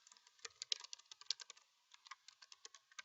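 Rapid, light keystrokes on a computer keyboard, an irregular run of crisp clicks and taps close up and fairly quiet, with no voices over them.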